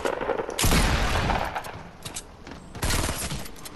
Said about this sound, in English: I'm still shooting this man.